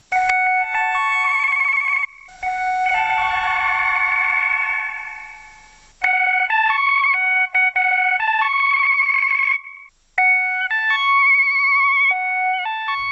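Yamaha DJX keyboard running through its DSP effects, with bright synthetic tones stepping up and down in short melodic runs, a swelling chorused passage midway and brief gaps between patches, loud and close with no talking.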